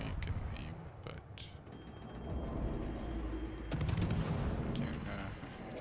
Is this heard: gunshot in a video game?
yes